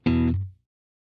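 A short electric guitar power chord rings out through an amp, a single clean strum that sustains briefly and then cuts off into silence.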